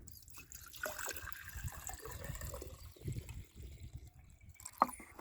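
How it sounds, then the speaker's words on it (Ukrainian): Water pours into a one-litre jar with a soft, faint trickle and splashing, mixed with small handling clinks and a brief sharp knock near the end. "Беремо літрову баночку і наливаємо сюди води."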